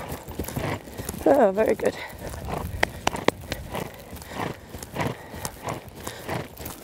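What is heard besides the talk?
horse cantering, hooves clip-clopping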